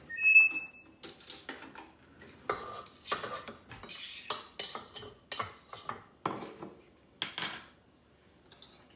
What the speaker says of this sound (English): mix in your mashed potatoes